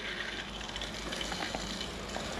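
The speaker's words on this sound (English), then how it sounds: "So let's now turn on the water" Mains water rushing into a domestic heating system during a power flush, a steady broadband hiss and gush that continues unbroken at close range.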